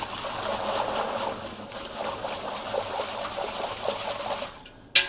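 A whisk beats salt into a wet pizza dough mixture in a bowl, giving a steady, fast, slightly watery churning rhythm close by that runs without pause for several seconds before stopping abruptly.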